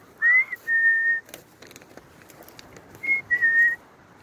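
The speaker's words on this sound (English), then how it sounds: "I'm just gonna whistle to them here and see if they'll come." A person whistles two short sets of clear, steady notes to call birds, with a quiet gap between them and faint rustling in the background.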